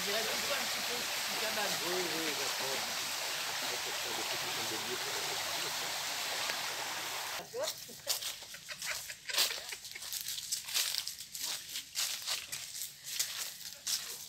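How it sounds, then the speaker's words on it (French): A steady rush of flowing water fills the first half, then gives way to irregular splashing and clattering noises close by. "Et la rivière, elle est juste en dessous."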